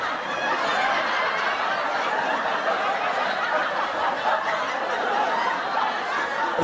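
Intense recorded sitcom audience laughter from a laugh track, a dense, continuous roar of many people laughing at once, loud and unbroken throughout.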